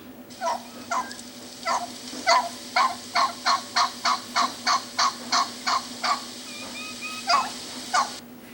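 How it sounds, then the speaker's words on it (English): A turkey hen gives a long run of evenly spaced clucking yelps, about a dozen in quick rhythm, loud and close, followed by a few softer calls. "the last sound I have to share with you is what the mama turkey uses to call all her babies"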